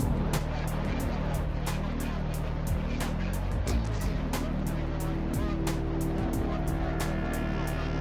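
A fleeing Renault Clio races along the road, heard as a loud, sustained engine drone with a steady low hum and rapid ticking beats, under a narrating voice.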